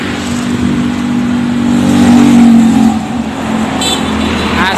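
A Hiba Putra intercity bus on the Cepu–Bandung route via Purwodadi passes on a damaged, sunken road, its engine a loud, close, steady drone that swells and fades across a few seconds.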